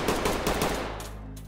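Gunfire in the tactical shooter Ready or Not, a close, loud cluster of rapid blasts in the first half that then dies away into a booming low rumble and tail.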